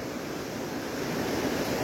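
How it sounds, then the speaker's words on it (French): Mountain torrent rushing along beside a river, a steady broadband roar of churning water heard close and continuous with no voices. "Alors ça c'est un des torrents, hein. C'est pas la rivière qu'on voyait tout à l'heure."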